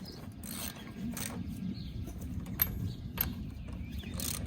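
Lug nuts on a 2018 Nissan Pathfinder rear wheel being snugged in a star pattern with the parking brake set, heard as faint ratcheting clicks and a couple of sharp metallic ticks over a low steady background.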